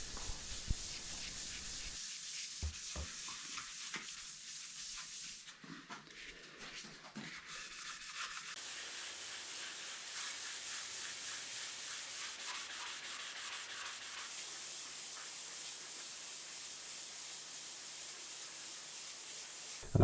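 A guitar body is dry sanded by hand with 1200 grit Super Assilex sheets. The rubbing is soft, continuous and close, with shifting strokes and some brief pauses over about twenty seconds.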